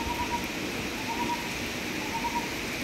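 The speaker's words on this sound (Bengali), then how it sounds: "এখন সকাল থেকেও হচ্ছে মুষলধারে বৃষ্টি।" Heavy rain pours steadily as a dense, even hiss with no pauses, heard alone and at a constant moderate loudness.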